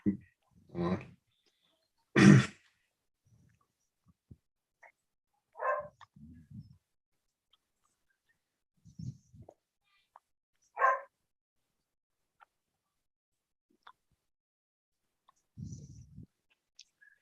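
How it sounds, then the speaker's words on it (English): Dog barking at a door in short sharp bursts, a few scattered barks spread across the stretch with quiet gaps between them, fairly faint and partly distant. "gotta go let a dog outside. They're barking at the door"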